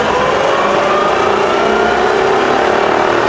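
A machine spindle runs steadily at 1000 RPM, a constant, even motor whine and hum at close range with no talking.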